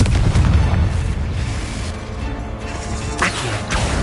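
A Confringo blasting spell exploding in the Hogwarts Legacy video game, a loud booming crash with rumbling debris that slowly decays, followed by a second sharper impact near the end.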